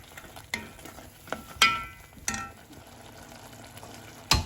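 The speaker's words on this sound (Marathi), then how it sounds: "मसालो मातशें आमी भाजून घेया" Spice paste for Goan moong curry fries in a pan with a soft sizzle, broken by several sharp clicks and scrapes of stirring at uneven intervals.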